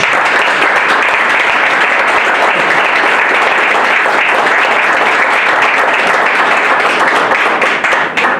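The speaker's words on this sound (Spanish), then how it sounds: "me gustaría pedir un fuerte aplauso para Ana, que es la que ha conseguido reunir" Loud, sustained audience applause fills a hall at an event in Madrid, a dense steady clapping from a crowd lasting the whole stretch without letting up.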